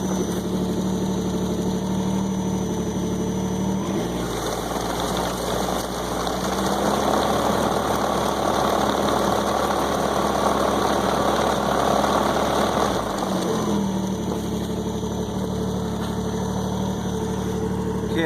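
A Ski-Doo Skandic 900 ACE SWT snowmobile engine runs in gear, a steady mid-low idle hum with a rise in revs and rougher throb in the middle section before settling back, close and continuous.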